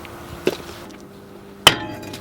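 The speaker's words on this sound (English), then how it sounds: "it's definitely stuck on there, so it's gonna take a little bit of hammering to get it loose" A hammer strikes a stuck brake rotor on a MINI Cooper F56 twice, each blow a sharp, ringing metallic clang close by, with a short pause between them.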